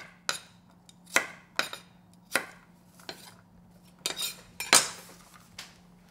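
Kitchen knife chopping large garlic cloves in half on a board, about eight sharp separate knocks and clicks at an uneven pace, close and fairly loud with nothing else heard.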